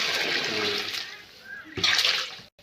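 Water poured into a pot of vegetable biryani with carrot, beans and potato cooking over a wood-fired stove, a steady broadband rush that swells louder near the end before cutting off.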